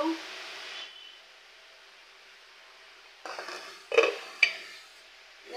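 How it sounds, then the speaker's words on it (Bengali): A metal lid is lifted off a pot of cooking fish broth, with a brief burst of steam hiss and two clinks of metal against the rim, then quiet. "এবার ঢাকনাটা উঠিয়ে নেব।"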